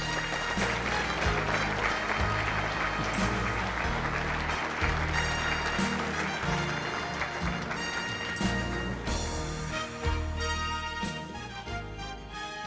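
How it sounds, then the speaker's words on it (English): Audience applause at the Kansas Sports Hall of Fame 2023 induction ceremony, honoring Phil Dixon of Atchison, Kansas: a loud, sustained wash of clapping from a large crowd lasting the whole stretch, tapering slightly near the end. "Give that gentleman a nice round of applause from Atchison, Kansas."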